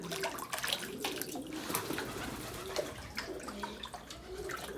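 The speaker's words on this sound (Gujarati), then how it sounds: "પગું ધોઈ નાખીએ થાક ઉતરી જાય" Hot water splashes and trickles quietly as feet are washed, giving a faint, continuous running and sloshing sound from close by with no talk.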